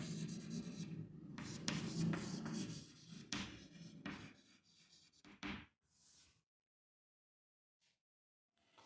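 Pen scratching out maths on paper while working a coordinate geometry problem: busy, close strokes and taps for about six seconds, then near silence broken by a couple of faint ticks.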